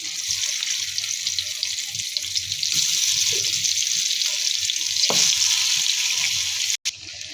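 Marinated taro pieces frying in hot oil, a steady close hiss and crackle that runs throughout, with one brief clunk near the end.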